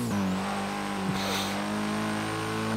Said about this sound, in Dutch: Oh, dikke burn-out en drift tegelijkertijd.